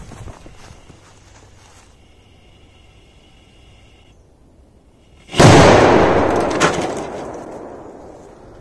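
Big firecrackers explode inside a washing machine, a single loud, sharp blast near the middle followed by a long crackling, rattling decay with a second pop, after a quiet stretch of faint background noise.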